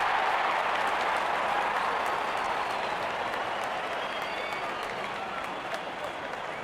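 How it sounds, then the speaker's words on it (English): Sustained applause from a large cricket crowd at an IPL semi-final between RCB and Gujarat Titans, a dense, steady roar of clapping and cheering that holds at an even level throughout. "There's such a wonderful crowd in to watch their favorite players"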